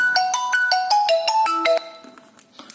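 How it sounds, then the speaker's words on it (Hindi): A mobile phone ringtone for an incoming call plays a bright electronic melody of quick repeating notes, loud and close, then cuts off and leaves faint background noise, with no voices. "फोन आ गया था, सॉरी, मैं इसे काट दूंगा"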